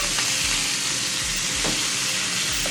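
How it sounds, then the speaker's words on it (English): Beef hitting a very hot pot for a jerk cheesesteak, sizzling and frying with a loud, constant bright hiss and a few stirring scrapes, close and with no voices. "That sizzle is what we need."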